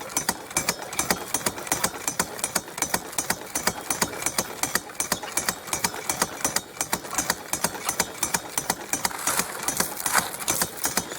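Hand-cranked drywasher machine running at a gold prospecting site, a steady rapid rhythmic thumping and rattling from a mechanism close by, continuous and fairly loud with no talking.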